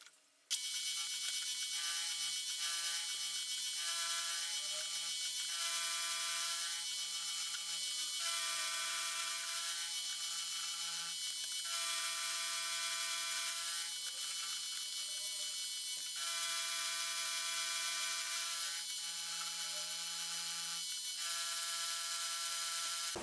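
Steady high-pitched mechanical whine of a metal angle section being cut for a mini Caterham wishbone, continuous and close throughout with faint rhythmic pulsing, no voices.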